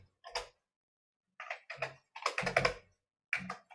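Short bursts of computer keyboard typing come in separate clusters of quick clicks with silent gaps between them, close and fairly quiet with no talking.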